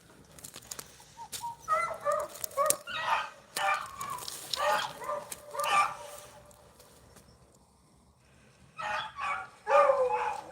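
Beagle pups on a rabbit hunt bark and bay in a starting pen in the evening, with repeated sharp, fairly close barks in uneven bursts, a lull, then a final flurry.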